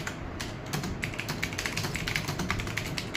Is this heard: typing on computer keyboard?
yes